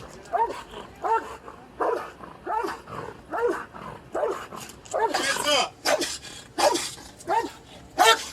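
A police canine barks repeatedly in work mode, with loud rhythmic bursts mixed with whines and yips, close by. A voice can be heard beneath the barking.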